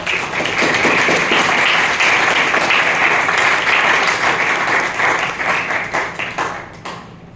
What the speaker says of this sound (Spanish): Un aplauso a Malpaso, por favor